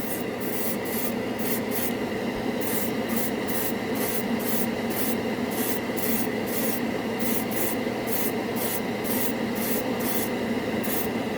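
Unthinned yellow paint is airbrushed in light layers over red primer: a continuous near hiss with evenly spaced pulsing bursts, heard alone.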